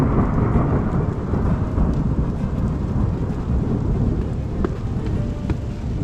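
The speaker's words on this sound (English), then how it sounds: "It was windy and raining" Steady heavy rain pours down continuously on a Himalayan mountain trek in Himachal Pradesh, with low rumbling thunder and gusty wind noise throughout.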